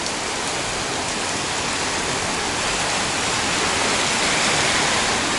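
Rain falls in Danang, Vietnam as a dense, even hiss that stays loud and unbroken from start to finish, with no voices.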